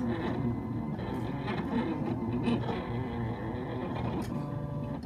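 A print-and-cut machine hums and whirs steadily as it reads registration marks and draws with a Foil Quill pen, with a continuous mechanical drone and faint clicks of the carriage, no speech.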